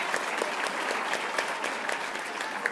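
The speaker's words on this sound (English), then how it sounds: "one last round of applause" A crowd at a middle school awards night gives a last round of applause, a dense, steady roar of many hands clapping continuously from start to finish.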